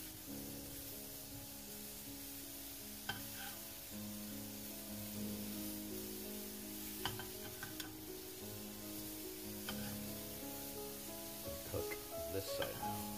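Apple pieces cook in a pan with a steady sizzle that carries on without a break, broken up by small taps and clinks of stirring and no talking.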